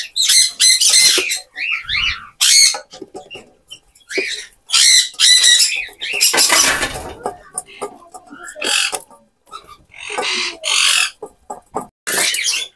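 Pet birds chirp and squawk in bursts through a home kitchen while soft food of boiled eggs and garlic is prepared, with loud, busy calls overlapping across the whole stretch.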